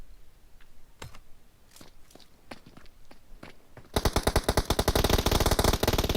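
Video game gunfire: scattered single shots and footstep-like taps, then a loud, rapid burst of automatic fire rattling continuously to the end.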